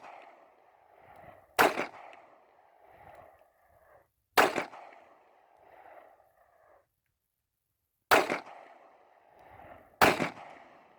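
Four sharp, loud gunshots from a Smith & Wesson .38 Special revolver, spaced irregularly over about ten seconds, each a hard crack with a short decaying tail, with faint handling noise between shots.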